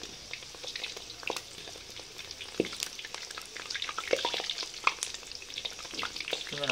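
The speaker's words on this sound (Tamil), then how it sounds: "நம்ம ஸ்பிரிங் எண்ணெயில் போட்டோம், வெந்துட்டுருக்குது" Chicken spring rolls deep-fry in oil, making a soft, steady crackle dotted with sharper pops and occasional utensil clinks, fairly faint and with no talking.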